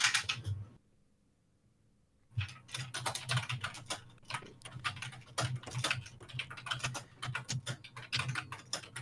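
Steady clattering of typing on a computer keyboard as notes are taken, close and continuous with dense irregular key clicks after a brief quiet gap near the start.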